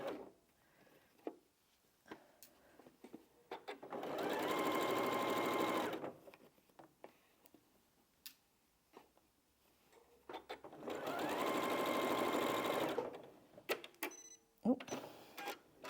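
A home sewing machine stitches scrappy quilt binding in two steady whirring runs of about two seconds each, close and loud. Small clicks and handling noises fill the quiet stretches between the runs, with no talking.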